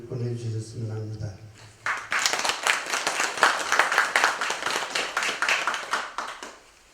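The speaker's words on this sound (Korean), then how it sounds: "영월 대종사 큰 스님에게 감사와 존경의 큰 박수를 보내주셨으면 합니다." At a Buddhist temple memorial rite in Gimje, a gathered audience breaks into brisk, dense clapping for a senior master, following someone speaking over a PA; the applause holds steady and then thins.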